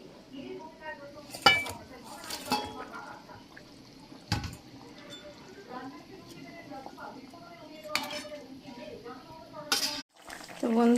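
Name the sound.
fish being added to curry in a pot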